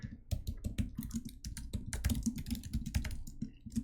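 Rapid, close typing on a computer keyboard, a dense run of sharp key clicks in an uneven rhythm with no pauses, with no voices.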